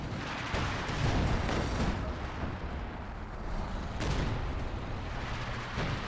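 Artillery barrage during a competitive real-time strategy match, a steady roar of overlapping distant booms and rumbling impacts, dense and unbroken throughout, with louder swells here and there.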